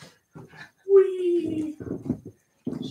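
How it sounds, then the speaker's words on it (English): Five-week-old Cavalier King Charles Spaniel puppies give a high, drawn-out whimper that slides downward, mixed with small yips and rustling while people talk nearby. "Aren't those good puppies?"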